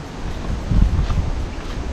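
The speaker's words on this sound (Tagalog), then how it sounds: "napakalakas ng hangin" Strong wind at a beach buffeting the microphone, a steady gusty rumble with a brief stronger gust midway, with faint surf in the background.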